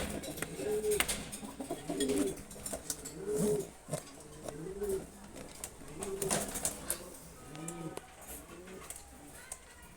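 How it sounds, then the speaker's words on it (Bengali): Racer pigeons coo repeatedly in a steady series of soft, throaty calls close by, with faint wing flutters and background noise between them. "এটাই আমার ঘরের সবচেয়ে শক্তিশালী এবং বড় কবুতর"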